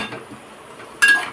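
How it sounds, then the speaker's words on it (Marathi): Potatoes stirred and turned in a pan with a utensil, giving a short burst of metallic scraping and clinking near the end after a quiet stretch. "आता बटाटे हलवायचे"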